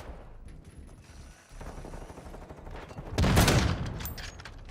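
Game gunfire from a first-person shooter, a burst of loud crackling shots swelling after a quieter stretch of ambient noise, then sustained sharp reports near the end.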